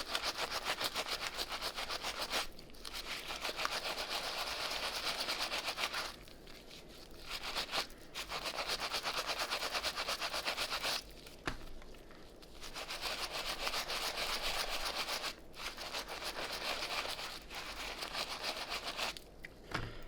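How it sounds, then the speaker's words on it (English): A soft bristle brush scrubs dark shoelaces from Brooks Launch 9 running shoes, giving steady, close, rasping strokes in several long bursts separated by brief pauses, with no talking. "just kind of scrub them again with this soft bristle brush"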